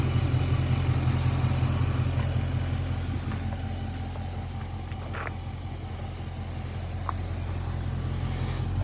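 A stock 2012 Dodge Challenger SRT8 with the 392 6.4-litre V8 idles nearby, a steady deep rumble that holds evenly throughout with no voices over it.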